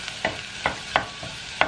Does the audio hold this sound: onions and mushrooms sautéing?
yes